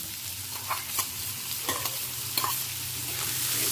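Chopped onions fry in oil with bay leaves, dried chilli and garam masala, a soft steady sizzle punctuated by several distinct spatula strokes and scrapes at uneven intervals, close by and without talk.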